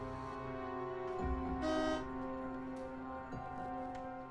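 A steady, droning horn tone sounds fairly quietly for several seconds, with a brief louder blast partway through.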